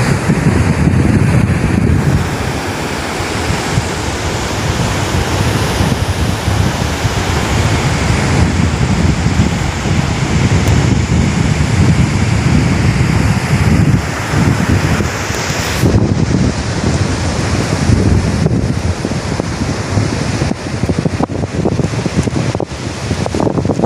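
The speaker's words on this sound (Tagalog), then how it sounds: "Malalaki po yung alon." Big sea waves and strong wind roar together at the coast, a loud, continuous rushing wash with gusts buffeting close by and a brief lull partway through.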